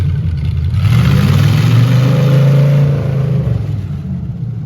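Heavily modified Big Red tractor built from a 400 engine revving loudly at a farm parade, a deep steady roar that swells and holds before easing back toward idle.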